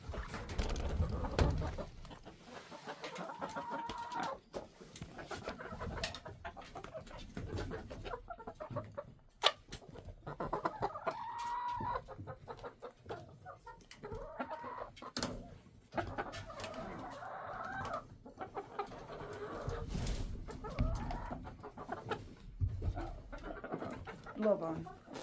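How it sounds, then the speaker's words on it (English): Chickens clucking outdoors in icy cold weather, a continuous low murmur of clucks and soft calls with a person talking over them throughout. "chickens are outside"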